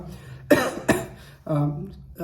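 Two sharp, close coughs in quick succession, followed by a longer raspy throat sound, from a single person in a quiet room.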